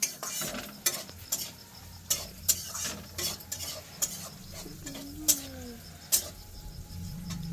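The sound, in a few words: stirring and mixing biryani in a pot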